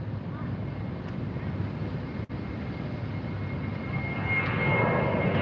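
Volaris jet airliner climbing out on departure from LAX, heard from the beach as a steady broadband engine roar with wind buffeting, swelling louder toward the end; faint voices underneath.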